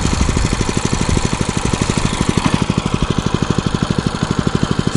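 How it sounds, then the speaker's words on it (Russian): Small engine idling while warming up outdoors on a winter fishing trip, a steady rapid chugging pulse with even rhythmic beats, close and loud throughout. "Немножко погрею двигатель."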